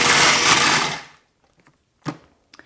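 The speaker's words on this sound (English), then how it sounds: "So I have 1 cup of flaked coconut and 3/4 cup sliced almonds. And we're going to grind them up until they resemble oats." Food processor grinding flaked coconut and sliced almonds, a loud whirring burst for about a second that cuts off, followed by faint clatter and a brief knock.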